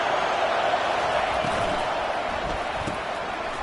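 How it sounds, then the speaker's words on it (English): A football stadium crowd at a Clemson versus FSU game roars in a loud, continuous wash of cheering and noise, with a commentator's voice faintly mixed in. "It's early, but this crowd is fired up. Listen to this noise here."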